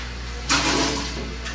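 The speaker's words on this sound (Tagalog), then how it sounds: "Nalagyan na natin ang tubig." Water poured into a homemade brine shrimp hatchery: a sudden close rush of liquid starts midway and runs for about a second over a constant low electrical hum.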